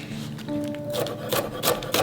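A knife cuts through napa cabbage on a cutting board in a few crisp, crunchy strokes, close and moderately loud over about two seconds, with a faint background hum.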